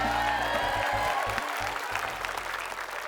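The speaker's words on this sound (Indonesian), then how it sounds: "tepuk tangan dulu semua boleh?" A television dating show's studio audience applauds continuously, a dense wash of clapping that starts strong and gradually eases off over about three seconds.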